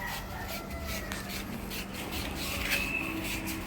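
Sandpaper rubs dirty contacts inside the wiper motor of a 2017 Toyota Vios in a steady, close, rasping scrape that runs unbroken with no voices.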